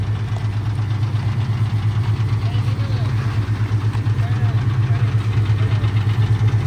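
A 1989 Chevy K1500 pickup engine idles steadily nearby after sitting for two months, with a low, rhythmic chug and a faint ticking knock running through it, continuous and unchanging.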